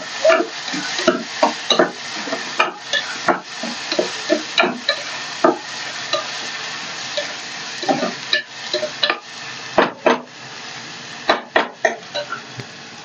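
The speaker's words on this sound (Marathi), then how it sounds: "आपण जे दोन टोमॅटो बारीक चिरून घेतले ते आपल्याला ह्या कांद्याबरोबरच छान परतून घ्यायचे" Chopped onion and two finely chopped tomatoes sautéed together in a pan, with repeated spatula scrapes and knocks over a soft sizzle, close and unaccompanied by talk.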